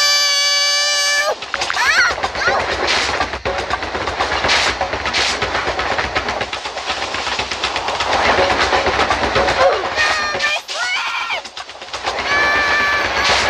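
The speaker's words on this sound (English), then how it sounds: "We need to get off this train quickly!" Loud rumbling video-game train in Roblox with rhythmic clatter and hissing, tonal whistle-like bursts at the start and end, and a voice speaking over it.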